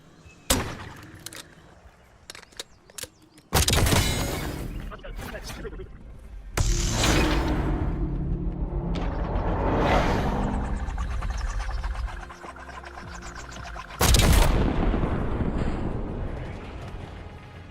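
Gunfire in the Call of Duty Black Ops 6 map Haven, with several sharp bursts and longer roaring blasts over game noise while someone talks.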